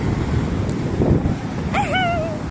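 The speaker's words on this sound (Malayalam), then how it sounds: "മഴ, നല്ല കാറ്റും മഴയും." Blustery wind and rain buffet the microphone at a beach over a low surf-like rumble, then a brief warbling whistle sounds near the end.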